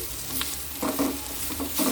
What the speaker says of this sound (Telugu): ఇదంతా బాగా వేగనివ్వాలి ఇంగువ అయితే మనకి కొంచెం హీట్ తగిలిన వెంటనే వేగిపోతుంది